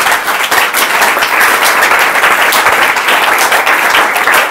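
A church congregation breaks into sustained, dense applause that fills the whole stretch at a steady loud level, with no voices standing out above it.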